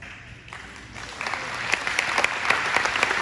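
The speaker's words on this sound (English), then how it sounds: "That deserves applause." Applause rises from a graduation ceremony audience, starting quieter and swelling after about a second into steady, dense clapping from a large crowd, with scattered sharp individual claps standing out.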